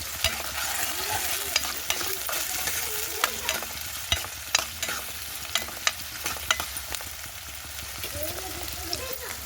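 Onions and green chillies fry in hot oil with a soft, continuous sizzle, broken by scattered clicks and scrapes as a spoon stirs the pan, moderately quiet and close.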